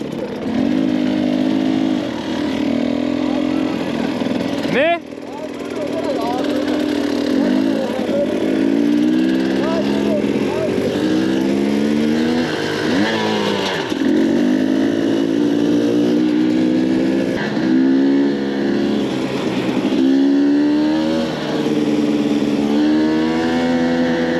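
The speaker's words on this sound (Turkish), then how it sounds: "motor değiştirdik. Bana EXCF verdi Kazım" A KTM EXC-F motorcycle engine revs hard and close, rising and falling repeatedly over some twenty seconds in a continuous loud drone.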